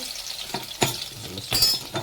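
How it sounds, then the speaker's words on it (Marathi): Crushed garlic dropped into hot oil in a pan sizzles and crackles close up, with short bursts of spattering and the scrape of stirring, and no one talking. "तर पहिले आपण लसूण ठेचलेला तो टाकून घेऊया."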